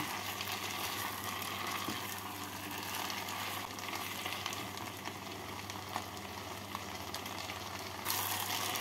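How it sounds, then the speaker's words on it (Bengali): Chicken pieces fry in a pan for chicken polao, giving a steady, even sizzle that runs unbroken throughout at moderate level with no voices. "চিকেনের টুকরোগুলোকে ভেজে নিলাম"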